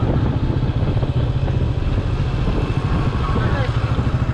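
A Royal Enfield Meteor 350 motorcycle engine runs steadily nearby, a continuous low, even thump that stays loud and unbroken throughout.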